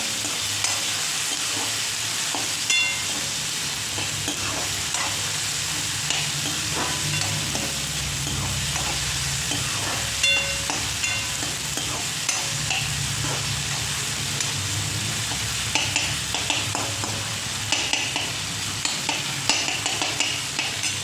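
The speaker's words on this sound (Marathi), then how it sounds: "सारखं परतायचं, जेणेकरून कांदा टोमॅटो जळणार नाही." Onion and tomato sauté in a pan for chickpea curry, giving a steady, close sizzle throughout, broken by occasional scraping stirs of a spoon against the pan; no talk is heard.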